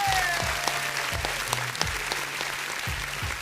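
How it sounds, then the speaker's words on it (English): An audience claps for a prize winner at a local district event, a steady close patter of many hands with a faint low hum underneath and no talking. "Everybody clap it up for Tony"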